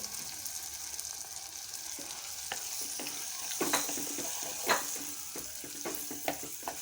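A plantain stir-fry with pepper powder is stirred in a pan, with soft scraping strokes and light knocks over a faint low sizzle, fairly quiet and close; no one speaks.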